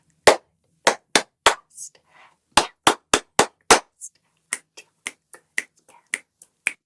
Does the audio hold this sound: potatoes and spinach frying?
no